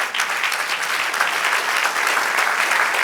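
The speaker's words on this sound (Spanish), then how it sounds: "Denle un aplauso al Señor." A congregation at a church service claps in a dense, continuous burst of applause, loud and close, with no speech over it.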